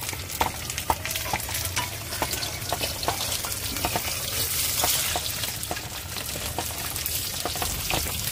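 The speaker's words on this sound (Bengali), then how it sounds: "এখন মাছটা ভাজা হয়ে গেছে" Fish frying in hot oil in a home kitchen, a loud continuous sizzle with crackling pops and spatula scrapes throughout, close and without talk.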